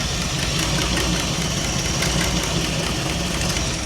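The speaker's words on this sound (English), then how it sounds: "I don't know if you can hear it, but it's got a click" The engine of an old 1977 Dodge, running again after sitting abandoned for 20 years, idles loudly and roughly, a steady drone with a faint repeating click from a cracked flex plate and a small exhaust leak.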